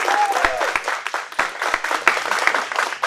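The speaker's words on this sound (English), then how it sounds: "so everybody clap for Christina" Audience clapping for a student at a black belt test, a dense burst of applause with sharp individual claps standing out, fairly close and steady throughout.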